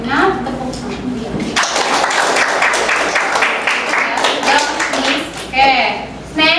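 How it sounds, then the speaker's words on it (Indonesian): Students in an English class clap for a classmate. Lively applause breaks out after a moment of talk, carries on for a few seconds, and then voices return. "Ya, nah, tepuk tangan dia."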